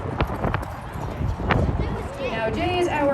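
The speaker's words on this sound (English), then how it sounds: "our last, but certainly not least, lead horse coming out to get his harness on" A Clydesdale lead horse is led out at a show and parade to be harnessed, its hooves clopping in a loose walking rhythm on hard ground amid crowd noise and a commentator speaking over a PA.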